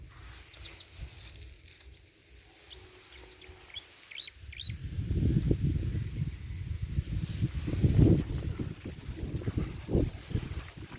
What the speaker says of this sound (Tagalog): Malakas yung hangin pero walang ulan.